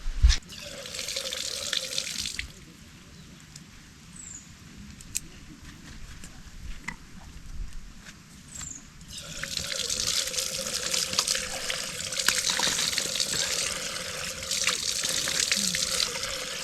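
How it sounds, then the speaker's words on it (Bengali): Water runs from a washroom tap at a hillside campsite at Mirinja Valley, Bandarban, a steady hiss that starts, pauses midway, then resumes louder and continues to the end, with faint voices and outdoor noise beneath. "এইটাকে ছাড়লে মনে হয় পানি আসবে।"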